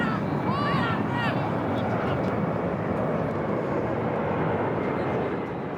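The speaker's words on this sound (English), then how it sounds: "The planes are overhead, right in the flight path to Kingsford Smith here" Fixed-wing airliner passing overhead on approach to Kingsford Smith Airport, heard at Leichhardt Oval during a rugby league match, a steady broad roar filling the whole span beneath crowd noise and commentary.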